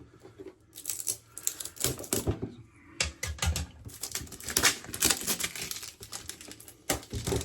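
A Benchmade Bugout knife slicing open a shipping package for a shaver unboxing: a busy run of close scratchy cutting, tearing and crinkling cardboard and plastic, irregular and continuous for several seconds, with no voice.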